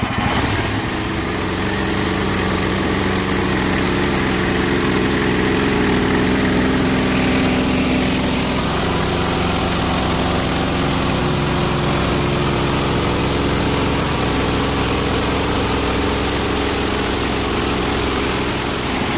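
The small engine of a Hudson Freedom Line Patriot sawmill cutting a sinker log runs loudly and continuously, a steady droning chug with a slight shift in pitch partway through, no talking.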